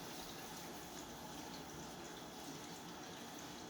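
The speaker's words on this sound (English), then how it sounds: "First, I'm going to wash my hands" Tap water runs steadily as hands are washed under it in a clinical exam room, a soft continuous splashing hiss, faint and uninterrupted with no talking.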